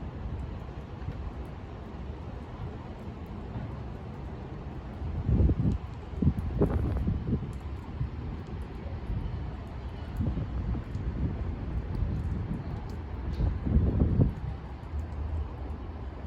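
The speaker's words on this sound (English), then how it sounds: "But when the wind blows" Wind blowing outdoors, a steady low rumble of gusts buffeting the microphone with a couple of stronger surges, faint rustling mixed in, no voices.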